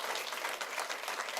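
A church congregation applauding during a sermon, a steady dense wash of many hands clapping for a moment, fairly soft and even, with no voices on top.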